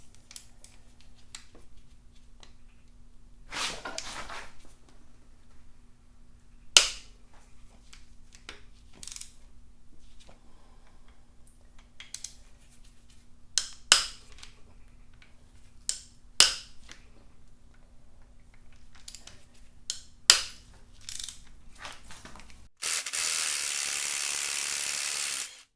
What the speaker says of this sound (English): I'm gonna loosen them up with a ratchet first before I go hit them with an impact.